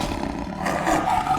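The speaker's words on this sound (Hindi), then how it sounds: "ये दहाड़ वनों के राजा की है।" A tiger gives a single loud, rumbling roar that swells and holds through the short moment, close and unaccompanied by any voices.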